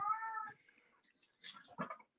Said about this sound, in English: Your cat seems to be having fun.